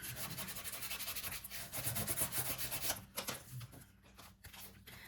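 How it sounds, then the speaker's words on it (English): A folded paper booklet cover burnished flat by hand, with quiet close rhythmic rubbing strokes that scrape back and forth steadily, then slow into a few separate swipes, no voices. "and burnishing that down"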